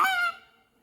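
A goose call whistle blows one brief, nasal honk that imitates a goose, close and loud. A second blast starts just as it ends, and nobody talks.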